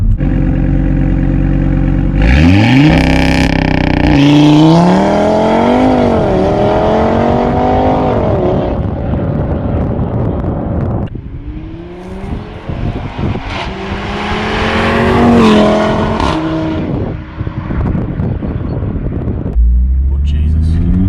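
An Audi RS3 engine roars loudly as it launches on launch control, revving up and shifting through gears with rising and falling pitch, close and powerful.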